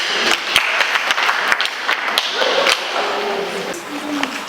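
An audience applauds at a cooking competition for teens, with steady clapping from a crowd nearby and voices talking under the claps.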